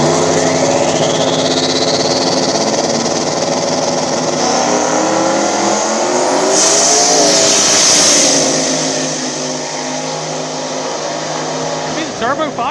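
A turbocharged Fox Body Mustang small-tire drag car accelerates hard down the strip at a dig race, a loud, sustained engine roar climbing in pitch through the gears, then fading as it pulls away. A high turbo whine rises partway through, with crowd noise underneath.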